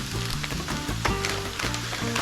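Butter melts and sizzles in a hot pan, giving a continuous crackling fry with dense, irregular pops throughout, close and fairly loud, and no talking.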